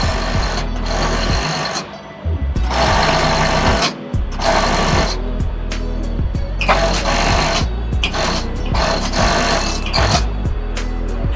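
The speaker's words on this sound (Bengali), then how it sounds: "আমরা ফর্মাল প্যান্টের 4 পাকেতে ওভারলক করে নেব।" An overlock sewing machine stitches the edges of four formal trouser pieces in loud, close bursts of rapid whirring, each run lasting a second or two and separated by short pauses.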